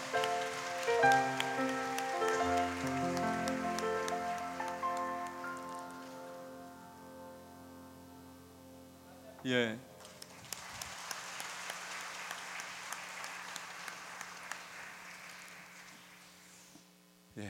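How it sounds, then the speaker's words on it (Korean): Church congregation applauding during a Sunday worship service, a soft spread of clapping that follows sustained organ-like tones, rising again after a brief pause and staying fairly faint. "우리 진심 어린 박수를 보내주시면 감사하겠습니다"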